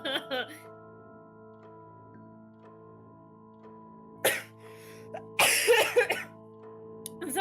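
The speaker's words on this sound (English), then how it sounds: "that was me in real life coughing" A few sharp coughs break out near the end over a faint, steady electronic hum, with brief vocal sounds at the start.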